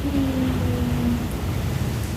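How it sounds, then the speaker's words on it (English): Rain falls on the roof of an apartment, a dense, steady patter and hiss that fills the whole stretch, fairly loud and with no voices. "Oh, can you hear the rain on the roof?"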